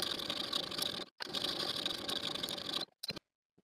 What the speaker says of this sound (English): I'm going to stitch in the ditch all the way around